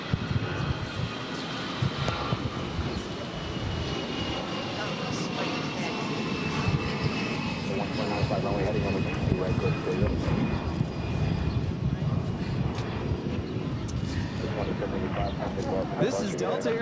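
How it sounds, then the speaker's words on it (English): A Delta Airlines Airbus A319 jet taking off from Boston for Charleston, a continuous mid-distance engine roar with a thin whine on top, steady for the whole stretch. "This is Delta Airlines 2785 taking off to Charleston on the A319"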